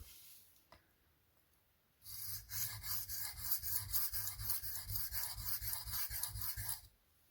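Freehand sharpening of an Arcane Design Creature tanto knife blade: after a quiet pause with one small tap, a fast run of rhythmic rasping strokes on a stone goes on for about five seconds, close and crisp, then stops abruptly. No one speaks.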